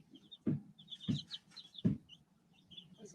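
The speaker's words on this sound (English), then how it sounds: "I think one is a rooster." A pet rooster clucks indoors with three loud, low, close clucks spaced about a second apart, and softer high chirps from other birds fill the gaps.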